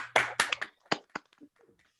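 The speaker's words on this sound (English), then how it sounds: "we should all give them a round of applause and we could take our mutes off even" A few scattered hand claps from participants in an online Rotary club meeting, four or five separate sharp claps over about a second, with a brief voice near the start.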